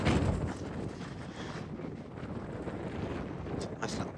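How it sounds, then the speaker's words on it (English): Strong wind at the harbour in Wells-next-the-Sea, Norfolk, on a very high tide, gusting loudly and rumbling across the microphone in continuous buffeting, with moored boats nearby and brief voices beneath. "God, it's really windy."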